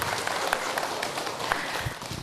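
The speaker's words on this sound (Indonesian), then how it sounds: "tepuk tangan dong buat Ibu Asih" A gathered audience at a Muslim family talk program applauds a woman named Ibu Asih, steady crowded clapping that hisses along evenly at moderate distance for a couple of seconds.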